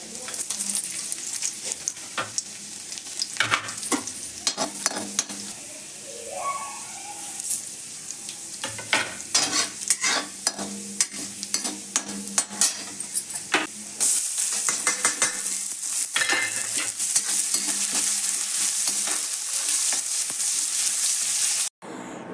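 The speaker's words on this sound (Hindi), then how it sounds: "तेल जब गर्म हो जाता है तब उसमें हम डाल देते हैं मेथी और ये डाला लहसुन" Fenugreek seeds and garlic sizzle in hot oil in a kadhai, a long, close crackle with sharp pops and bursts of stirring that grow denser toward the end.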